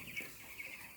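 Broiler chickens about twelve days old clucking inside a coop, soft scattered chirps and clucks in a quick uneven rhythm, faint and close, with no talk.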